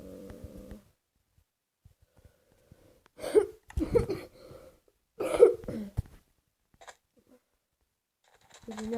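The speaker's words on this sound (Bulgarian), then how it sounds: "Извинявам се за кашлянето" A man coughs in several short, rough bursts spread over a few seconds in a quiet room, with brief vocal sounds at the start and end.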